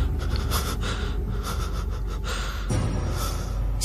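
Sharp gasps and heavy panting from a person jolting awake from a nightmare, breathing close and loud over a steady dense background, with a sudden catch of breath near the end.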